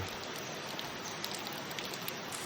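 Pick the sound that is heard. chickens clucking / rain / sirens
rain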